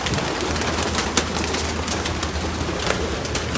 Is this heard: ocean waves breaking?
no